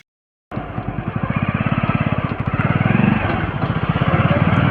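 A Hero Splendor motorcycle engine starts up and runs close by with a rapid, steady thumping beat, revving slightly higher as it pulls away.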